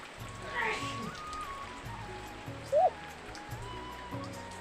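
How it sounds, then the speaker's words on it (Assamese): Steady rain falls on a cloudy day, a soft continuous patter and hiss heard faintly throughout, with a low background hum underneath. "আজি একদম বৰষুণ দি আছে, পুৰা ডাৱৰীয়া বতৰ।"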